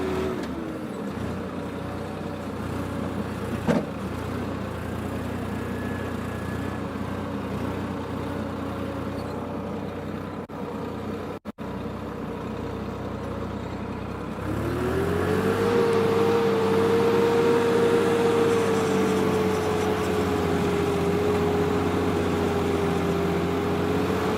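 A tractor engine idles steadily, then revs up midway into a louder, higher-pitched drone that holds to the end.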